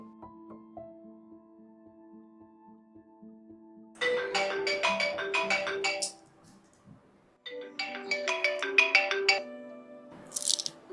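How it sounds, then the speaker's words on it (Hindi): A phone ringing on an outgoing call to a relative sounds as two bursts of bright, chiming ringback tone, separated by a pause, following a stretch of quieter steady tones, with no voices. "एक बार मैं प्रियांशी को फोन करती हूँ, हो सकता है मेरे कहने से आ भी जाए"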